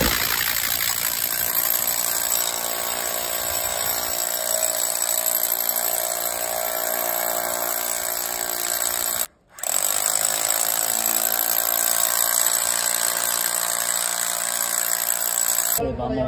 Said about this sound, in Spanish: Y ahora vamos a proceder a hacer los huecos para fijarla. Usaremos este taladro Hilti.